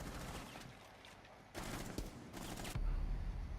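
Rapid gunfire in the video game Rainbow Six Siege comes as bursts of close, loud shots with short gaps between them.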